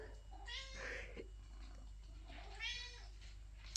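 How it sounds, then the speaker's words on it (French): An indoor house cat meows twice up close, each call drawn out and rising, with a soft low purr continuing between them and no voices. "Et c'est que ça ronronne en plus."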